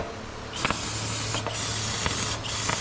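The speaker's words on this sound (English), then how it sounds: "Let's spray it one more time to make sure that it's all clean." Cleaner sprayed onto the hydro unit of an Easy Walker mower, a steady close hiss running throughout with a few brief sharper bursts.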